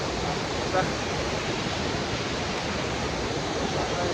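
A rushing river runs beside a bridge on the trail from Dunai to Renchi toward Phoksundo, a loud, steady, broadband roar that never lets up through the whole stretch.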